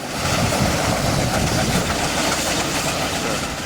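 A heavy old commercial vehicle engine runs steadily nearby at a steam fair, a loud continuous rumble and clatter with no pauses.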